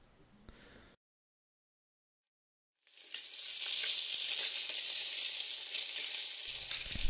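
Eggs frying sunny-side up in a pan: after a brief stretch of silence, a loud, steady sizzle bursts in and holds without a break to the end.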